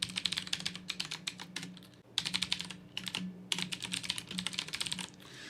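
Quick, crisp clicking on a computer keyboard comes in three bursts split by short pauses. Someone is typing a command at close range.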